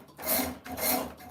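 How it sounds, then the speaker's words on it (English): A Nicholson rasp files down the palm swell of a wooden axe handle in two long, close rasping strokes, each a loud gritty scrape with a brief pause between. "now we got the Nicholson rasp. We're going to take this palm swell down"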